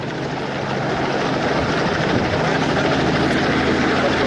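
Privately owned helicopters flying in formation produce a loud, steady rotor and engine roar that fills the whole stretch without any talking.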